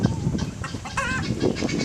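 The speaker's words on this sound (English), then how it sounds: "You see that rooster?" A rooster crows on a farm in Fresh Winds, a short rising and falling call heard at moderate distance over steady outdoor background noise and faint clucking.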